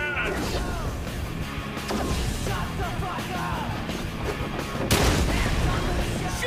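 Booming cannon blasts and crashes from a battle in Sunset Overdrive, layered over busy background effects and occasional shouted voices, with a heavy impact near the end.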